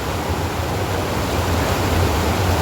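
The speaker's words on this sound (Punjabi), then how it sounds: "ਬਿਲਕੁਲ ਨਦੀ ਦੇ ਵਿੱਚੋਂ ਵਿੱਚ ਪਾਣੀ ਦੇ ਵਹਿਣ ਦੇ ਨਾਲ ਨਾਲ ਪਾਣੀ ਦੇ ਰਸਤੋਂ ਥੱਲੇ ਆ ਰਹੇ ਆ" Steady, loud rush of river water on the Kareri Lake trek in the mountains, a broad continuous roar with no voices.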